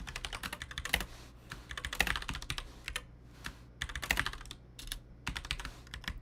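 Bursts of typing on a computer keyboard, quick clattering keystrokes in clusters separated by short pauses, close and clear with a low steady hum beneath.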